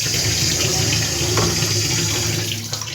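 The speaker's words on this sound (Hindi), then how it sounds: "मैं आर ओ को चला लेती हूँ ऊपर से और इसे भर लेती हूँ" Water from an RO purifier pours steadily into a bottle at home, a continuous close splashing rush that softens slightly near the end.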